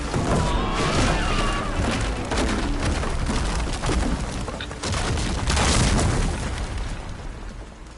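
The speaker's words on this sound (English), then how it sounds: "Plasma cannon." A plasma cannon fires repeatedly in the Horizon Forbidden West video game, heavy booming blasts and bursts arriving in loud waves amid chaotic combat noise.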